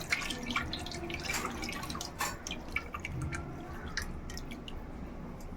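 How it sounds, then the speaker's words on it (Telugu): Tamarind pulp is poured into a simmering fish curry, giving soft, wet drips and squishy splashes close by, irregular and fairly quiet, with no talking. "దీంట్లోకి చింతపండు గుజ్జు పోసేసుకోవాలి."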